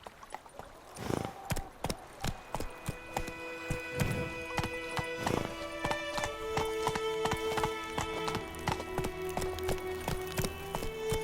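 Horse hooves galloping in The Witcher 3, a steady run of loud, close clip-clop beats with occasional snorts, over game music and ambience, with no speech.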